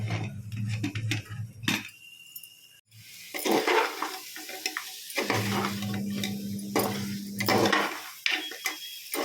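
Mutton curry being stirred in a pot after meat masala is added, with scraping and clinking of a ladle against the metal, a low sizzle underneath, and a few short pauses between stirs.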